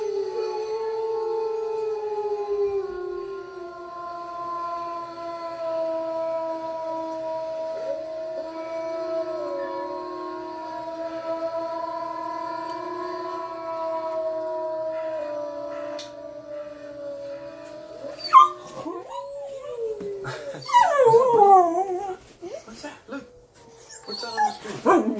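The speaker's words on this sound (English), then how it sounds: "we're gonna try wolves howling" A recording of wolves howling: several long, layered howls rise and hold together for most of the clip, then give way to a burst of short yips, whines and scuffling sounds near the end.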